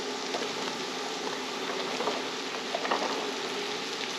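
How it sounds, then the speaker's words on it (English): Garlic sizzles steadily in a hot pan, a close, even hiss with small pops scattered throughout. "my garlic is now getting a good sizzle on it"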